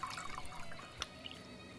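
Water pours and trickles softly into the water tank of a Gaggia Velasca Prestige espresso machine, a light splashy flow with a small splash in the middle.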